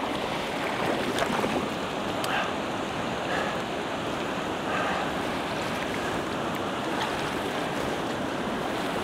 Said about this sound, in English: another interesting rapid